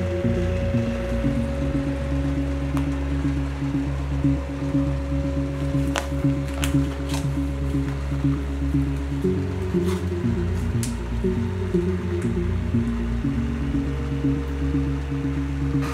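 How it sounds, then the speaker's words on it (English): A sous vide immersion circulator runs in a water bath at 150 degrees, a constant low mechanical hum with a steady tone, a few faint clicks and drips scattered over it, unchanged throughout. "Here's our immersion circulator into the water bath, and we'll turn it on"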